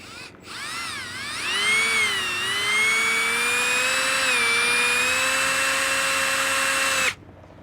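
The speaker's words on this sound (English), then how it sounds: "got my little screw gun. And all we're gonna do is just zip it right in right now." A small cordless screw gun drives a self-tapping screw into a vinyl fence gate, one continuous whining spin that ramps up, holds steady for several seconds and cuts off sharply.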